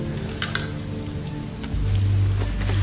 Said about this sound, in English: It's really coming down out there.